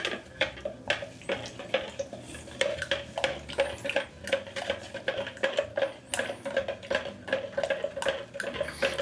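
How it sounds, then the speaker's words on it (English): Pizza sauce stirred with a utensil in a bowl, giving a steady run of close scraping and clinking taps with a wet, sloshy texture, repeated quickly throughout without talk. "Give it a stir."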